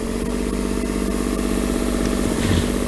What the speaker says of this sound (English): got a diesel motor back there.